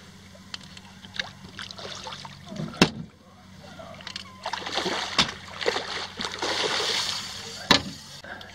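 A hooked redfish of roughly 10 to 12 pounds splashes and thrashes at the surface on a fishing line, with sharp slaps and sloshing water from a boat, and someone speaks over the commotion.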